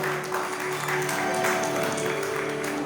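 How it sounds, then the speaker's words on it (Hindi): An audience at a religious family gathering applauds, giving a steady, moderately loud wash of clapping that holds for the whole moment with no voices. "एक बार जोरदार तालियों से हमें भी इनका उत्साह बढ़ाना है"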